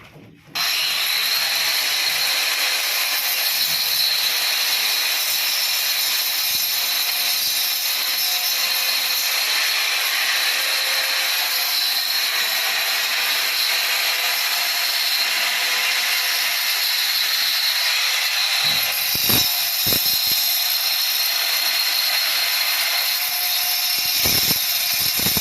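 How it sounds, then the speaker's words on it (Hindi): An angle grinder cuts into a house wall to make room for an electrical metal box. A loud, continuous abrasive whine runs unbroken for about 25 seconds, ending in a few brief knocks. "हम ये एंगल ग्राइंडर मशीन से वाल को कैसे कटिंग करते हैं"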